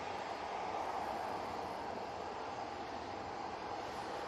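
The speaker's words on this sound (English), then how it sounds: "the Easyjet that was on Victor Charlie is now starting its engines up" An EasyJet airliner on a taxiway at Manchester Airport spooling up its engines, heard as a distant, steady broadband roar and hum that holds constant without a break.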